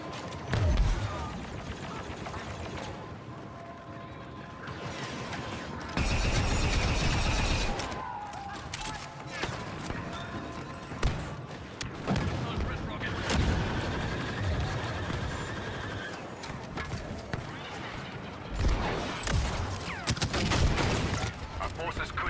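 Blaster fire from droids in a Star Wars video game crackles in dense, continuous volleys with bursts and booms, loud and chaotic over a busy battle background, with a voice speaking at times.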